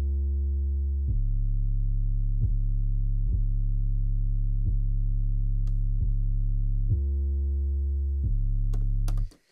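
An 808 bass from a Maschine beat, boosted with added mid harmonics, plays a run of sustained booming notes that each begin with a short click and change pitch every second or so, ending with a few small ticks.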